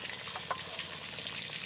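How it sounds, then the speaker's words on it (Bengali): Pieces of katla fish sizzle steadily in hot oil in a pan, a soft continuous hiss with faint stirring taps. "সব মাছের পিসগুলো তো ভালো করে ভেজে নিলাম"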